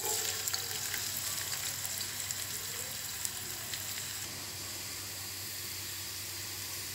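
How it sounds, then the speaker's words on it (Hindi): Chopped onion frying in hot oil in a kadai, a steady close sizzle and hiss that holds throughout with no talking. "कढ़ाई में आयल हमारा गर्म हो चुका है सबसे पहले प्याज शामिल करते हैं"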